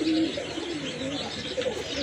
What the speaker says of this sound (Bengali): আরেক জোড়া দেশি কবুতর